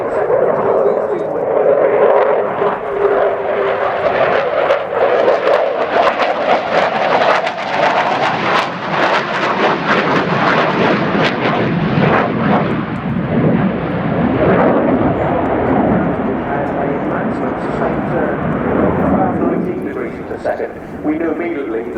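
A Ukrainian Air Force Su-27P1M Flanker jet roars through a 360-degree turn in a daytime RIAT flying display, a loud sustained rushing thunder that swells and fades with distance.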